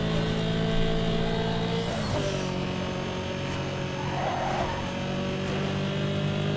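A game car engine drones steadily at speed on a winding mountain circuit in Need for Speed Underground 2, with a brief shift-like dip in pitch partway through and a constant loud hum throughout.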